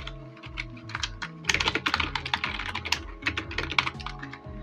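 Close, rapid typing on a computer keyboard, with dense bursts of crisp key clicks and a few brief pauses throughout.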